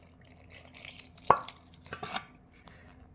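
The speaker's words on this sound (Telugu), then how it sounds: "ఇదైతే ఇప్పుడు మొత్తం కలిసేట్టుగా కలిపేసుకోవాలి ఫ్రెండ్స్" Amla (Indian gooseberry) pieces being stirred with oil into a pickle: a few scattered scrapes and clinks of a spoon against a bowl, with one sharp knock, fairly quiet and without talk.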